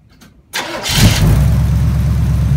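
A warmed-up GM car engine cranks briefly after a near-silent moment, catches and fires, then settles into a loud, steady idle close to the microphone, heard alone without talk.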